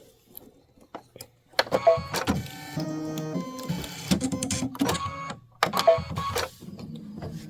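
Embroidery machine stitching out a design for a bench pillow, a busy mechanical whir with rhythmic tapping and motor tones, close and fairly loud, starting after a few soft clicks.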